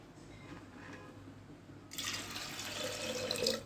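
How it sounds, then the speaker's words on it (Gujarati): Water is poured into a pot of mung, urad and toor dal set to boil for dal fry. The faint background gives way to a soft, steady splashing stream, and no one speaks. "હવે આમાં હું છે ને પાણી નાખીશ."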